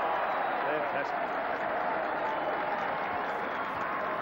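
A rugby match crowd in 1988 cheering and applauding, a dense continuous roar of clapping and voices filling the stadium, steady and fairly loud.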